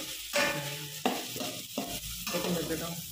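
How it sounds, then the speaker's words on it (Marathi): Onion and tomato are stirred and sautéed in a pan: a steady close sizzle of frying broken by several scraping stirring strokes, repeating roughly every half second to second, with no voices. "टोमॅटो मस्त तिथे परतून घेऊ."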